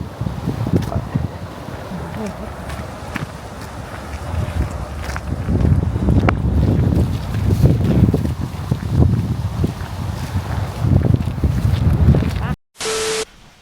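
Gusty wind buffets a microphone outdoors, a low rumbling roar throughout, with people talking under it before a sudden cut and a short tone.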